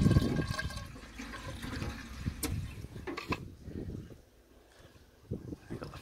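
A 25-litre hot-water tank fills through a ball valve with a rushing, gurgling flow close by, strongest at the start, then easing into quieter trickles and brief splashes.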